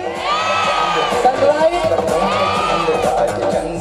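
A gathered crowd on Sunrise Day cheers and shouts together in a loud, dense swell, with whoops rising and falling across the few seconds.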